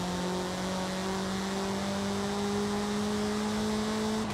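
A high-revving car engine in Forza Horizon 5 climbs steadily in pitch as it accelerates, a continuous loud near whine with no voices.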